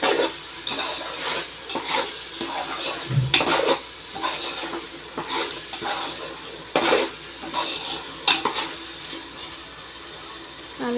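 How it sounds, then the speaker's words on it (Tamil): Masala for chicken biryani sautéing in a pan, with a spoon repeatedly scraping and clinking against the metal in an uneven rhythm, close and fairly loud, under a steady background hiss. "நல்லா பச்சை வாசனை போகிற அளவுக்கு நல்லா வதக்கிட்டே இருங்க"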